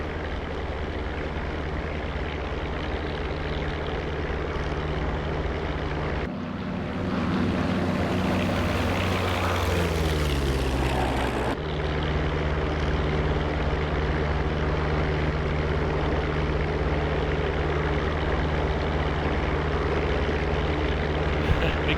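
Propeller engine of a P-47 Thunderbolt fighter plane, a loud steady drone with a low rumble that holds throughout, surging and shifting pitch in the middle stretch before settling back to a constant roar.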